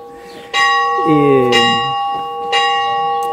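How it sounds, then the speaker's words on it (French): Church bells ring at Rennes-le-Château, loud and close, with sustained tonal strikes that overlap and decay, renewed by fresh strokes about every second. "Là, on a le florilège des cloches."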